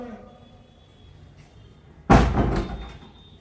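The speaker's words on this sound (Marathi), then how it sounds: "हा चल दरवाजा लाव." A house door is pulled shut with one sudden, loud thud and rattle partway through, after a quiet stretch with faint background sound.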